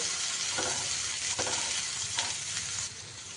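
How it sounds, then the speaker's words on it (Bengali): Chopped onion fries in a pan of oil, giving a close, steady sizzle with rhythmic stirring scrapes recurring every second or so. "এবার আমি পেঁয়াজটা একটু ভেজে নেব"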